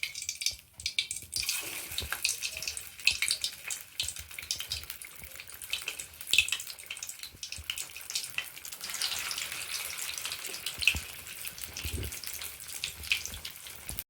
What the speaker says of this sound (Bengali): আমি এবার তেলে ধোঁকাগুলোকে ভেজে নিচ্ছি